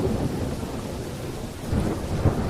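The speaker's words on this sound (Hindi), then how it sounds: "बारिश भी रुकने का नाम नहीं ले रही है।" Heavy rain pours steadily while a deep roll of thunder rumbles beneath it, a dense continuous wash of noise that swells slightly toward the end.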